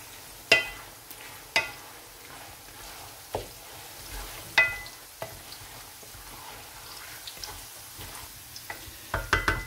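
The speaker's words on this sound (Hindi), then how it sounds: "कीमा शामिल करने के बाद मैं इसको तकरीबन 4-5 मिनट के लिए अच्छी तरह भूनूंगा" Minced meat fries in a pan for a keema and bitter gourd dish, giving a soft, steady sizzle broken by sharp, irregular scrapes and knocks as a spoon stirs it.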